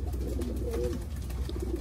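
Racing pigeons in a loft give low, rolling coos close by over a steady background hum.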